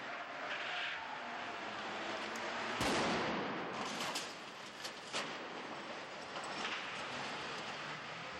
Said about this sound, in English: There's going to be one explosion and then mine.